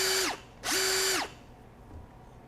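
A Ryobi 18V One+ HP compact cordless impact wrench whirs up to a high-pitched spin at its top speed of 2800 RPM in two short bursts, each winding down quickly, with quiet room noise between.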